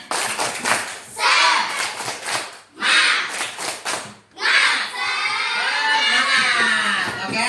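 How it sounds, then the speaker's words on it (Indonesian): Children at a classroom coding and AI lesson perform a rhythmic spirit clapping chant, with loud bursts of clapping and shouting in several rounds, then a sustained cheer. "Oke, tepuk semangat."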